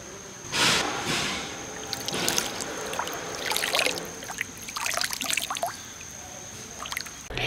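Clear water in a Sri Lankan stream gurgles and splashes close by in uneven bursts and trickles, with a faint steady high tone in the background and no talking.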